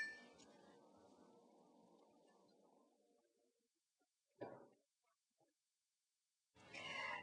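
Glasses clinking together in a toast of ionized water, a short bright clink standing out after a stretch of low murmur, followed by quiet and then a brief burst of sound at the end.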